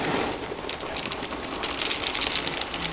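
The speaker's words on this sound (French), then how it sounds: "il pleut." Steady rain falling outdoors during a street outreach food round, a dense continuous patter with scattered brighter drops, moderately loud and unbroken across the whole stretch, with no voices over it.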